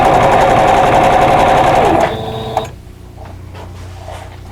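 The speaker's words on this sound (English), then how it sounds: "So I'm going to go ahead and start sewing these pieces here together" Sewing machine stitching quilt block pieces together for a vintage strawberry basket block: a loud, fast, steady mechanical whir for about two seconds that winds down and stops, followed by quiet handling clicks.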